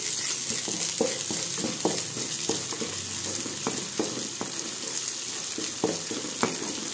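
Ginger garlic paste fries in hot oil in a pan for a prawn curry, giving a steady close sizzle broken by regular scraping taps of a spoon stirring against the pan, with no voices.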